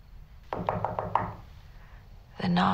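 Several firm knocks on a door sound close by in a quiet room, five evenly spaced raps followed by a pause before a voice begins to speak.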